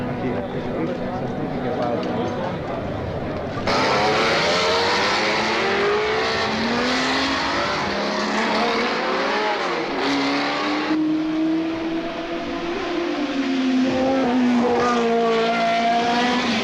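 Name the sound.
race cars at the Italian Grand Prix, Monza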